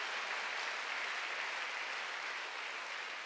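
Church congregation clapping during a Korean Sunday worship sermon, a steady, even wash of applause from many hands, faint and distant, with no voices over it.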